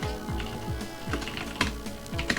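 Steady typing on a computer keyboard, close clicks in quick succession with a few louder key presses, over a constant low hum in the background.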